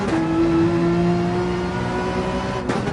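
A Gran Turismo 7 race car engine holds full throttle up a hill on Dragon Trail, a loud sustained tonal roar with a slightly rising pitch, cut off abruptly near the end.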